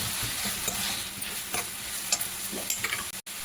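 Ingredients for mango pulihora stirred in a hot pan, a steady close sizzle of frying with scrapes and soft clicks of the spoon recurring through it, no talking.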